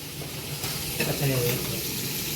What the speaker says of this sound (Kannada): ಈಗ ಈರುಳ್ಳಿ ಬೆಳ್ಳುಳ್ಳಿ ಟೊಮೊಟೊನ ಫ್ರೈ ಮಾಡ್ಕೋತಾವ್ರೆ ನೋಡ್ರಿ